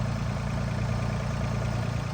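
A RoboEvo machine's engine idles at low revs, a steady close rumble holding constant throughout with no talk over it.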